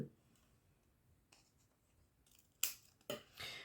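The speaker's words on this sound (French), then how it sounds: "Au ciseau, ça fonctionne très bien. Et je viens couper, hop, le long de ma cravate" Scissors snip through yellow paper along a tie-shaped outline, a few quiet rustles and a soft cut early on, then two crisp, louder slicing snips near the end, close up and without speech.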